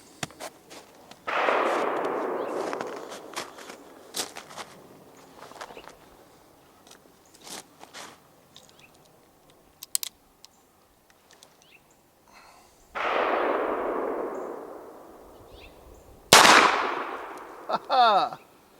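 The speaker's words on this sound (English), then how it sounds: "And it does go off. That's got a pretty good report to it, doesn't it?" An antique Remington New Model Navy cartridge-conversion revolver fires a .38 Long Colt round, one sharp, loud report near the end with a short ringing tail. Handling clicks and rustling scrapes come before it.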